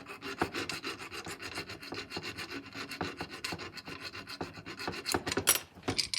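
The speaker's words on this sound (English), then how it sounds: "we're going to remove any burrs from the underside of that pan right there. And I just use a small file." A small file rasps rapidly back and forth along the underside of a stamped metal pan from a 550 trap, removing machining burrs in close, continuous strokes.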